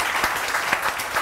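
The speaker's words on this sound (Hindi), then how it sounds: "तालियां होनी चाहिए इनके लिए" Brief burst of studio audience applause on a Pakistani morning talk show, dense overlapping claps at moderate volume for about a second.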